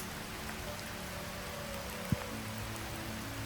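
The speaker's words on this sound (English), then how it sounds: "I walked out into the rain to make this video" Soft rain falling outdoors, a faint, even hiss throughout with one brief tap partway through and no voices.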